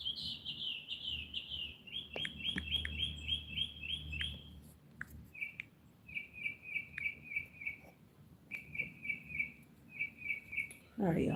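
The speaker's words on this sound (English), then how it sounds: "Y'all hear the birds chirping?" Birds chirp in quick repeated bursts, a rapid series of high tweets followed by shorter spaced-out runs of chirps over soft background noise.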